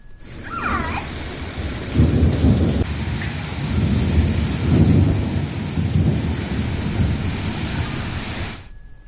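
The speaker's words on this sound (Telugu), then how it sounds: "గుమ్మలక్ష్మీపురం, గురుగుబిల్లి, సీతంపేట మండలాల్లో భారీ వర్షం కురిసింది" Heavy rain pours steadily while deep thunder rumbles roll through in several long waves, loud and continuous.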